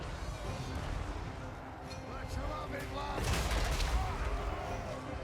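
Gunfire from artillery and gun units in a Total War: Warhammer 3 battle, a dense rumbling fusillade of overlapping shots and booms that swells near the end, with a voice talking over the battle noise.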